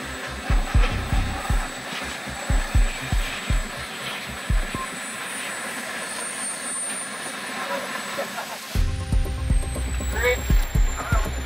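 Boeing B-52 bomber jet engines during takeoff at a military airshow, a loud throbbing roar with pulsing low rumble, dropping away briefly before surging back up close and powerful.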